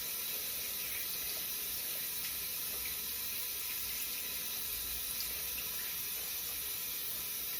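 Running tap water rinses a makeup brush at a sink, a steady close-up gush and splash that continues unbroken throughout.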